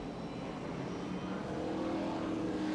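NASCAR Xfinity race cars at Nazareth Speedway in 1996 drone steadily under throttle, a continuous engine roar that swells slightly toward the end, with no commentary over it.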